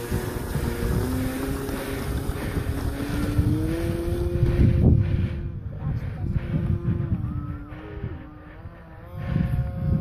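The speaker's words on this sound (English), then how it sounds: "It's going to be a crosswind takeoff." A Tundra Grasshopper 1/6-scale RC model plane takes off in a crosswind, its motor droning with a rising and falling pitch over steady wind buffeting and outdoor noise throughout.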